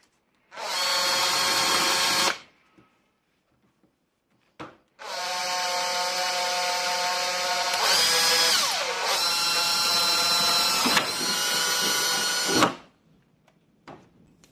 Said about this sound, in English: so I've got to drill a hole